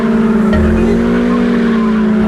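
Car engine from Need for Speed Underground 2 drones steadily through a drift, with tire squeal and skidding layered over a loud, constant engine note for the whole stretch.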